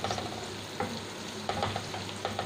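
Chopped onion and green chili fry in hot oil with mustard seeds, cumin and curry leaves for a South Indian drumstick sambar, a soft steady sizzle with light crackles and occasional stirring scrapes.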